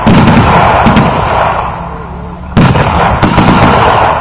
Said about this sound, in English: And they're opening fire at them.